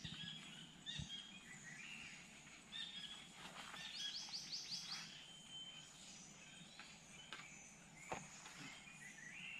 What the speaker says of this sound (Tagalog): Pakinggan nyo yung mga huni ng ibon.